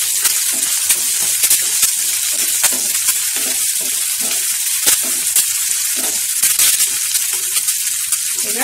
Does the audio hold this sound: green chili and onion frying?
yes